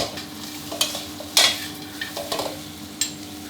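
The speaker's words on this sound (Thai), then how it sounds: "ใช้ไฟกลางค่อนไปแรงได้เลยนะครับ ผัดให้หอมเลย" Chili and garlic stir-fried over medium-high heat, with a steady sizzle broken by scraping spatula strokes against the pan, several of them sharp and distinct, close and alone with no talking.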